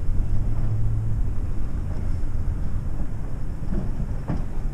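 A test train of an engine hauling seven cars rumbles past at a distance, a steady low roar with faint rail clicks and a brief horn-like tone at the start.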